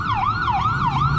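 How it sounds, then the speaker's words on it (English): An ambulance siren wails loudly and close by, its pitch sweeping up and down in a regular repeating cycle, with no voices. "ambulance."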